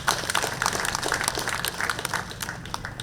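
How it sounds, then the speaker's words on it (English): An audience at a National Defence College graduation in Uganda applauds the diplomatic corps, a steady patter of many hands clapping at a moderate distance that holds evenly throughout. "Can you please clap for them?"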